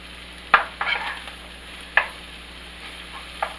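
Bacon and chopped onions, with mushrooms, cooking in a pan for green bean casserole, giving a steady low sizzle broken by a few sharp scraping or stirring clatters, with no talking.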